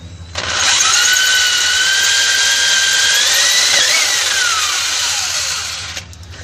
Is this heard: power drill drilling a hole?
yes